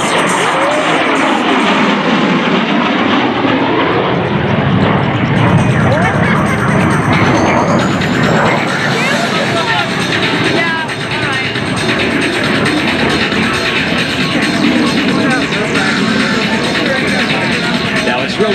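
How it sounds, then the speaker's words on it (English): Sea Harrier jet making a fast, low pass at the 2018 Culpeper Air Fest, a loud, roaring engine rush that swells and sweeps past close by, with a commentator talking over it. "Really cool to see a Harrier fly fast."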